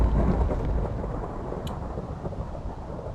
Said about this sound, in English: then I should get a lightning strike